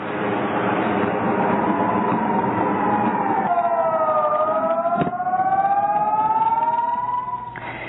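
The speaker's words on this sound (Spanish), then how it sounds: "se intensifica en la ciudad de Jerusalén las llamadas de sirenas cuando se activa la cúpula de hierro" Air raid sirens wail across Jerusalem during rocket alerts, a loud sustained rising and falling tone with several overlapping sirens droning steadily, no voices.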